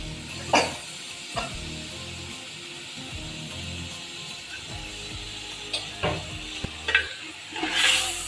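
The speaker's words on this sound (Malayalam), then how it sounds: "ചിക്കൻ ഇട്ടതിന് ശേഷം അതും നന്നായിട്ട് ഇളക്കി ആ മസാലകളെല്ലാം ചിക്കനെ പിടിക്കുന്നത് വരെ നന്നായിട്ട് ഇളക്കി മിക്സ് ചെയ്ത് കൊടുക്കുക." Chicken being stirred into masala in a pressure cooker for a Tamil Nadu style biryani, with a few distinct scraping and clanking spoon knocks against the pot over a soft sizzle, close and without speech.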